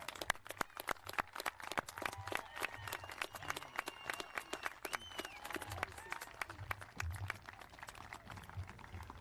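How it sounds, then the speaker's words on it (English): Scattered, fairly faint applause from a crowd at a high school graduation ceremony, with individual claps standing out in an uneven rhythm and whistles or cheers over a low background murmur. "Will the parents and families of the graduating class of 2020 please stand and be recognized? Guys, turn around and clap for them."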